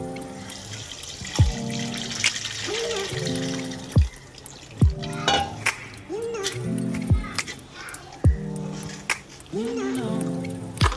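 Tamarind water pouring and splashing into a pot of fish curry while a person talks over it, with a few sharp clinks along the way.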